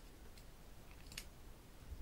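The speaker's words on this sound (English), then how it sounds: "I'm going to position my scissors to cut diagonally to the stitch line" Sewing scissors cut diagonally through fabric toward a stitch line for a double welt pocket, giving one quiet, brief snip against a soft, hushed background.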